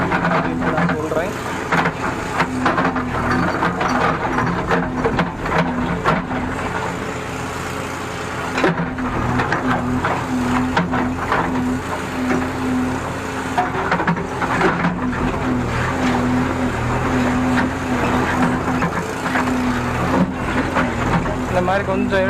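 A JCB backhoe working to load a large boulder, its engine droning steadily at close range with irregular knocks and scraping of rock, while someone talks over it throughout.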